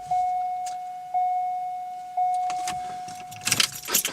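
A Chevrolet steering lock actuator with the key switched on, heard as three evenly spaced chimes followed by a short burst of mechanical clicking and rattling close by.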